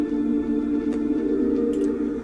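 Three-bar MIDI synth loop built with AudioCipher and Ripchord, playing sustained, even chord tones that hold steady at a moderate level throughout, with no voices.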